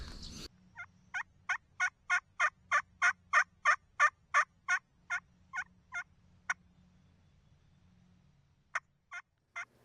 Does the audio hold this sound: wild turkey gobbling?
yes